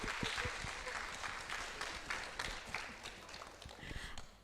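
Audience applause at a school parent university session, a moderately loud clatter of claps that swells and slowly thins out over several seconds, with no voices on top.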